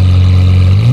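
A Lamborghini Aventador SVJ fitted with an EH Exhaust full system idles with a deep, loud, steady drone, then starts to rev upward near the end of the brief moment.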